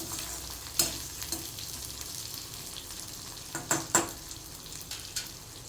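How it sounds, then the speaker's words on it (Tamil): Small shallots frying in a pan for a bitter gourd tamarind curry: a soft, steady sizzle with a few sharp stirring knocks and clinks against the pan, fairly quiet, with no talking. "ஒரு ப்ரௌன் கலராக வரவுன்னே வெங்காயத்தை போட்டுருவோம்"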